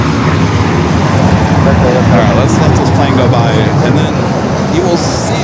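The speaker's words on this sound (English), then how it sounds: "let's let this plane go by" A propeller airplane passes at Los Angeles International Airport, a steady loud engine roar that swells and holds throughout, with a person speaking faintly underneath.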